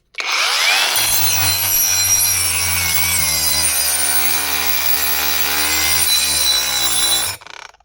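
A cordless angle grinder, either an AliExpress unit or one bought in Ukraine, cuts through material in one loud, continuous whining pass of about six seconds, its pitch sagging slightly under load before it spins down and stops.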